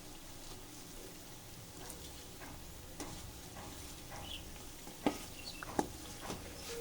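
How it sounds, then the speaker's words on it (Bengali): Patties frying in oil for a home snack recipe, a low steady sizzle running throughout with a few sharper pops and crackles near the end, fairly quiet and with no voices. "এগুলিকে ভাজতে হবে অনেকক্ষণ ধরে চার থেকে পাঁচ মিনিট ধরে ভাজতে হবে"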